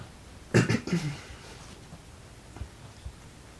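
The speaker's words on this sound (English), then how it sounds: "Morning cough" A short cluster of throaty coughs up close, a couple of quick bursts followed by quiet breathing and faint thumps.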